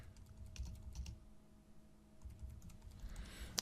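Soft computer keyboard typing taps away in short clusters of keystrokes over a faint steady hum, close but quiet, with no talking.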